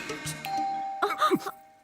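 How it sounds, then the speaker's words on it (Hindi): A doorbell rings with a two-tone ding-dong chime in a house, fairly faint and brief, following a few short sounds. "घंटी को भी अभी बजना था"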